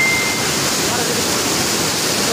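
The Beas River rushes past the Kalinath Kaleshwar Mahadev temple in a dangerous, swollen state, making a loud, steady, dense roar close by with no break.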